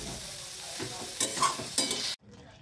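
A spoon scrapes and stirs a coconut filling for pithe in a hot pan, with a steady sizzle underneath and a few louder scraping strokes before the sound cuts off abruptly.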